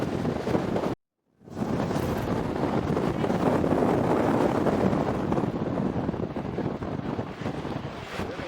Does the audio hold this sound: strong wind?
yes